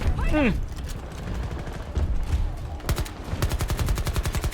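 Loud sniper-style rifle shots in Battlefield 2042 on a first-person shooter battlefield, a sharp crack near the start followed by a rapid run of closely spaced reports near the end, with background battle din throughout.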